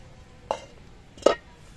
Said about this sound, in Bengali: 10 মিনিট পর আমি ঢাকনাটা খুলে নিচ্ছি।